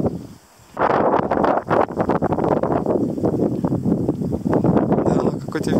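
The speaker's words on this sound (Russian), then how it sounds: "Да, какой-то ветер, блин, начался." Strong wind buffets the microphone in loud, gusty roars, with a voice speaking underneath the rushing noise.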